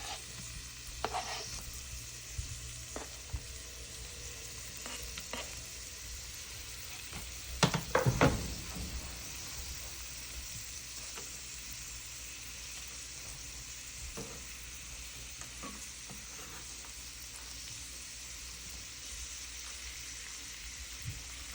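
Onion frying for a creamy coconut shrimp curry, a soft continuous sizzle with a louder burst and clatter as the pieces hit the pan, then light stirring sounds under the steady hiss.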